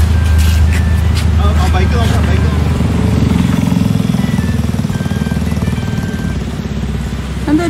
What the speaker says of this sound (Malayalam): എന്തോ ചെറിയ ബൈക്ക്,